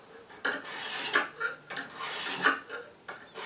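A knife blade is worked up and down on a Lansky sharpening stone, giving a close, gritty rasping in quick, uneven strokes with no voices.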